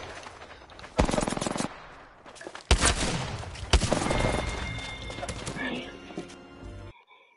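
Automatic weapon fire bursts out in an Apex Legends match, several loud rapid volleys between quieter stretches, with game effects and horse-like sounds mixed in under a voice speaking.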